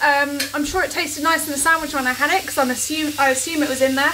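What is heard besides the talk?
meat sizzling in a pan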